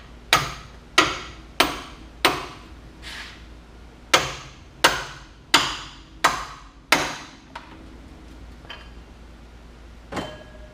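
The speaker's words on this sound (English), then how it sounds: "So a few good whacks on that hammer." A hammer bangs on the metal suspension parts of a 1974 Pontiac Trans Am about ten times in a steady, forceful rhythm, then a couple of fainter knocks follow after a pause.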